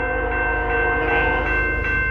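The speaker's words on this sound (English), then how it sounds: "we got a train coming, boys." A CN freight train passes in Battle Creek, Michigan, with a loud, sustained horn chord over the deep rumble of the locomotive, held steadily throughout at close range.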